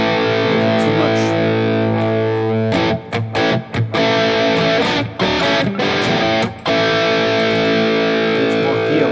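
Electric guitar played through a Fractal FM9 amp modeler with a boosted distortion tone, dense sustained saturated chords broken by several brief choppy muted stops, loud and close with no voices.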